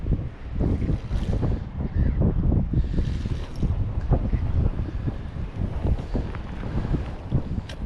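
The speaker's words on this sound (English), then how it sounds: "Wind's picking up." Gusty wind buffeting the microphone beside the water at a fishing spot, rough low rumbling bursts that come and go, loud and close, with no talk.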